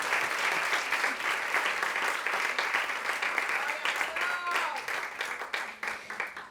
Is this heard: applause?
yes